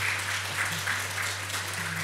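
A church congregation applauds during a Sunday worship service to welcome a new choir member, a brief, steady patter of moderate clapping over a low constant hum.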